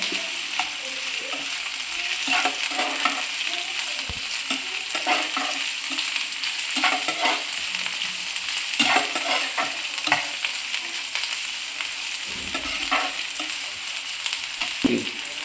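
Onion with ginger and garlic frying in a pan for shev bhaji, a loud continuous sizzle close up, with frequent rhythmic scrapes of a spatula stirring throughout and no one speaking.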